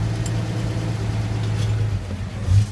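Engine of a 1947 GMC truck running steadily with its battery disconnected, a low, even hum with no pauses and a slight swell near the end.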